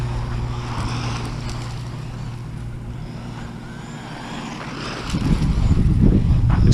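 A Tamiya BBX rear-drive RC car on its first run passes close at full throttle, its motor whine rising into a loud, rough roar over steady wind noise in the last seconds.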